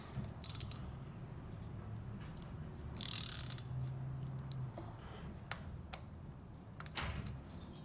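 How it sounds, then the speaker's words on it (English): Ratchet clicking while removing the engine mounting bolts on a Yamaha Virago 1100 motorcycle during top end disassembly, with scattered mechanical ticks and a louder burst of metallic clatter midway, fairly quiet and close with no talking. "go in here with the ratchet and start removing the mounting bolts"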